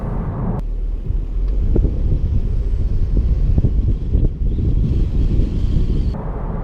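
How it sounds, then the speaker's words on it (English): Wind noise from the door mirrors inside a moving 2012 BMW 320d F30 saloon, a steady low rushing roar with a soft airy hiss above it, constant throughout, no speech. "You also get quite a lot of wind noise from the mirrors and a rustle from the header rail"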